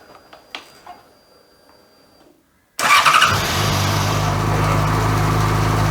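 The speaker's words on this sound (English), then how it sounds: "we'll fire the bike up and we'll get that engine oil circulated" A 2010 Yamaha XJ6 Diversion S motorcycle engine cranks and fires after a few faint clicks, then settles into a loud, steady running rumble close by.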